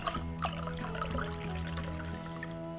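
Water is slowly poured into a lasagna dish with cream and milk, a soft continuous trickle over a steady hum.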